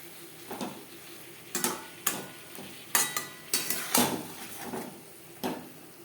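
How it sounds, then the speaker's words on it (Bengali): A spoon stirs pointed gourd with coconut, green chilli and tomato paste in a pan over medium heat, a soft sizzle under irregular scrapes and clinks against the pan, with no voices. "পটলের সাথে নারকেল কাঁচা লঙ্কা ও টমেটোর পেস্ট বেশ ভালো করে মিক্সড করে দেব মিডিয়াম ফ্লেমে"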